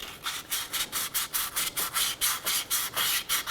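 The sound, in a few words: sanding rust off Honda Pilot wheel hub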